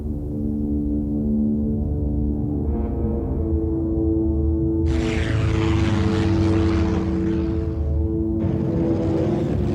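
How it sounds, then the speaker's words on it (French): An Avenger torpedo bomber on a training flight over the Bermuda Triangle drones steadily with its propeller engine, a continuous loud hum whose roar swells and brightens partway through before easing, then rises again near the end. "l'Avenger passait pour le meilleur bombardier lance-torpilles du monde"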